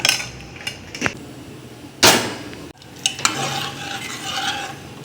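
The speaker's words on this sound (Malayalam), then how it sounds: "ഇനി ഇത് ഇളക്കിയിട്ട് നമുക്ക് അടുപ്പത്ത് വെച്ച് കൊടുക്കാം." A spoon stirs a salted Kerala stew in a pot, giving close scraping swishes broken by a few sharp metallic knocks against the rim. There is no talking.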